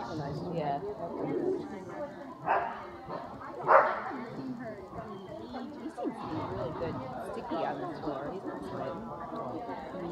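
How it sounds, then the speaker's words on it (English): A dog barking, with a couple of distinct barks standing out amid ongoing conversation and background household noise. "The dog."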